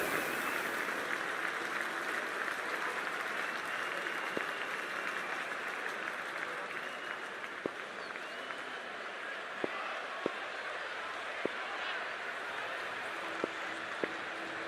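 A stadium crowd in the Cricket 24 video game applauds steadily as a dense wash of clapping and murmur. Sharp isolated claps pop out now and then, and the sound stays moderately distant throughout.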